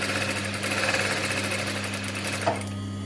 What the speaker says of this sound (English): Just stitching around the neckline now, making sure to not pull the fabric too much as I go